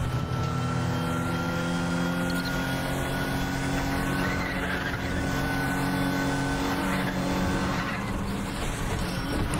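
A heavy car's engine revs and drones steadily in the racing game Need for Speed The Run, with sweeping pitch rises and falls as it accelerates and shifts, loud and continuous throughout.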